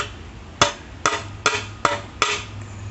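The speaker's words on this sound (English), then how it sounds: "Now I can take my hammer here," Five sharp metallic hammer blows, about half a second apart and close by, bending the sheet-metal inner fender of a 1965 Ford Mustang over, with a faint low hum between strikes.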